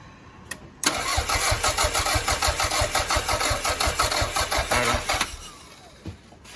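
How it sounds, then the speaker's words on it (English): A Toyota MR2 GT Turbo, fed fuel from a pump bottle, cranks up close in a fast, rhythmic chugging burst of about four seconds, then cuts off into quiet. "All right, so crank her up."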